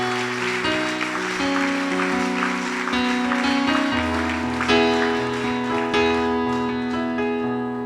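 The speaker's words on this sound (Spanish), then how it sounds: "Dale un fuerte aplauso al Señor" Applause for the Lord during a Spanish-language church service, steady clapping mixed with sustained organ or keyboard chords that swell and shift throughout.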